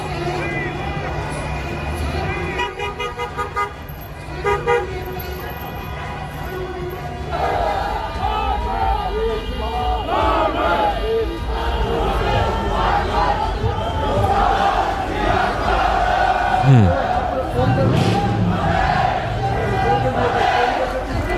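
A large, sizable crowd at a farmers' protest makes a continuous loud roar of chanting and shouting voices, close and dense throughout, with a brief horn-like tone rising partway through.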